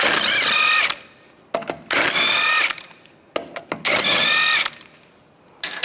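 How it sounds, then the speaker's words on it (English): Lug bolts coming off a 2007-2013 Mini Cooper wheel with a 17mm socket on a power tool: three loud, sustained whirring bursts of about a second each, separated by short pauses with faint clicks and handling noises. "use a 17mm socket, take the lug bolts off"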